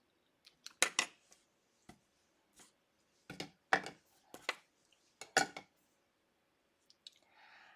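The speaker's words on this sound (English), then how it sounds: "and then cutting it with my paper snips." Paper snips cutting white baker's twine during card making, a scattered series of sharp, close snipping clicks with short pauses between bursts.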